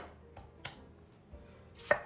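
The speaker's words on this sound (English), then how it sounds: "We're gonna cut these in half like this" A knife cuts tomatoes in half on a board, giving a few soft, close taps spaced apart, with a sharper knock at the end.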